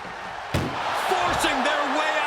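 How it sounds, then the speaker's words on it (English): A single loud, sharp slam of an ambulance door shut during a wrestling ambulance match, with arena crowd noise and a voice continuing underneath. "Doing their best just to shut that first door."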